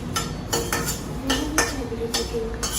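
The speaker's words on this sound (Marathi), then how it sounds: "त्याच्यात काय भाजतोय धने आणि जिरे" Coriander and cumin seeds roast in a pan, stirred with a utensil that gives sharp metallic clinks and scrapes at irregular intervals against a quiet background.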